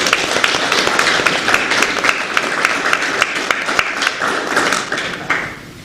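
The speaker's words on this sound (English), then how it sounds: "Let's give them a round of applause." An audience at a congressional briefing applauds, with sustained, dense clapping from a roomful of people that holds steady and then tapers off at the end.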